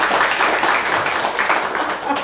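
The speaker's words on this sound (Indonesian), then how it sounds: "tepuk tangan dulu untuk Tuhan" A church congregation at a prayer service claps for God, a short, fairly loud burst of many hands with voices mixed in.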